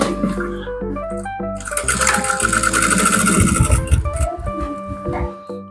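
A sewing machine stitches a trouser pocket, running in a loud continuous whir with some tonal humming that swells in the middle and then winds down, close up.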